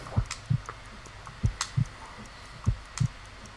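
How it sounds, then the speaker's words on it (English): Heartbeats in the Sherlock Holmes Crimes & Punishments video game, three clear double thumps in a slow steady rhythm, close and muffled over a low hum. "I need to concentrate and count the heartbeats."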